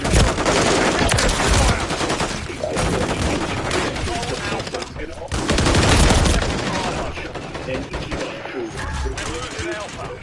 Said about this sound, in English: It's Taking fire!